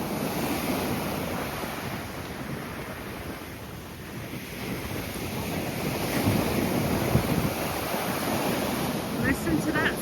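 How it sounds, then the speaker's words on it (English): Sea waves rolling onto the beach at Mablethorpe, a continuous wash of surf with gusty wind buffeting the microphone and swelling louder toward the end. "Listen to that sea."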